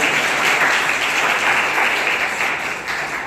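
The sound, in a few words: loud applause welcoming a boy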